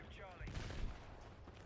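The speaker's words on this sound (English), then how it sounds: "Shooting missiles at us." Missiles fire in a video game: a dense, brief burst of blasts and rapid gunfire-like reports, fairly loud over under two seconds, with a descending whine at the start.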